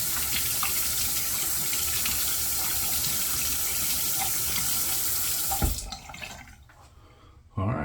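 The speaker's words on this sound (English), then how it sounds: "Warm up the razor, get it wet." Warm tap water runs steadily into a sink as a shaving razor is wetted under it, a close continuous splash that cuts off sharply near the end before briefly resuming.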